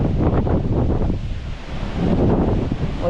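Strong outdoor wind roars steadily against the microphone in a continuous, loud buffeting rush that swells and dips slightly, with no clear voices.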